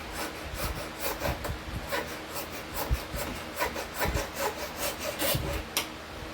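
A steel file rasps back and forth across whitetail deer bone clamped in a vise, in steady repeated strokes, close and fairly loud with no talk.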